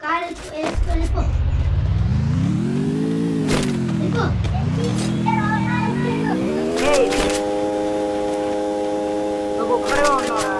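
An engine roars and revs up and down as a car is driven in the mobile shooter game Free Fire, with pitch sweeping and shifting steadily, while players talk over it and sharp gunfire-like bursts cut in.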